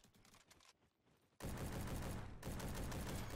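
Sustained FAL rifle fire in the video game Bad Business: a quieter stretch of shots, then loud, dense rapid bursts for about two seconds, with a brief dip and a resumption.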